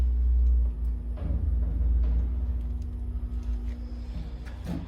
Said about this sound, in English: Now we got power. You can hear that transformer.